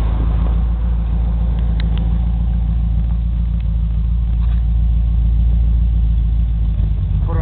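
A 1984 C4 Corvette V8, converted from Cross Fire Injection to performance tuned port injection and fitted with a new exhaust, idles with a loud, steady deep rumble close by and no talking.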